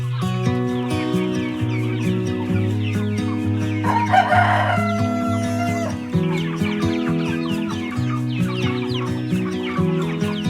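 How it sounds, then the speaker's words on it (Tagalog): Free-range chickens in a farm coop, clucking and crowing steadily and close by, with a dense layered chorus of many birds throughout and a brief burst of louder squawking near the middle. "these are the younger chickens compared to the chickens in the other coop"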